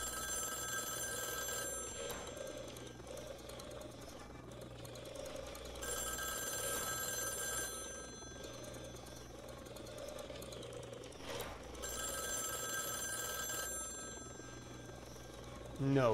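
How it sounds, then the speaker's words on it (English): A telephone rings in the horror video game White Shadows, with repeating bursts of ringing separated by short pauses over a steady droning game ambience. "I think you're supposed to pick up that phone."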